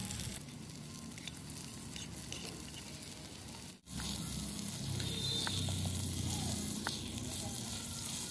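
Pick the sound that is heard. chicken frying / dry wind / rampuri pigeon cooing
chicken frying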